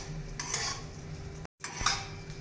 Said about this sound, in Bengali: হলুদটা দিয়ে আমি কিছুক্ষণ নাড়াচাড়া করব।